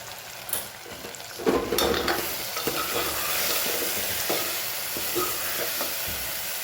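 A spice mixture of turmeric, coriander, red chili powder and salt sizzles in a pan while being stirred, with a steady close frying hiss and occasional scraping knocks of the spoon.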